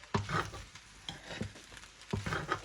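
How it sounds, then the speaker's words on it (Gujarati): Egg fried rice with soy sauce is stirred in a pan, giving several close scraping strokes with a light sizzle between them. "હું હવે એમાં થોડો સોયા સોસ નાખું છું, 1 ચમચા જેટલું છે। આવી રીતના નાખી આપણે મિક્સ કરી લઈશું।"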